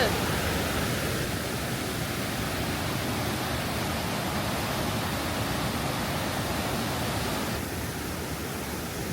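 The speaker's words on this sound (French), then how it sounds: "La cascade." A waterfall at Don Khon in Laos gives a constant, close, full-bodied rush of falling water, unbroken for the whole stretch and easing very slightly toward the end.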